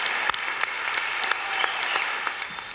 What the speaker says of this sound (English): A rising round of applause.